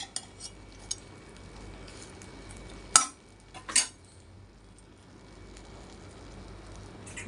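Stuffed eggplant fry being turned over in a pan on a low flame, a soft continuous background hiss broken by a few sharp metal clinks of the spatula, two louder scrapes near the middle, no voices.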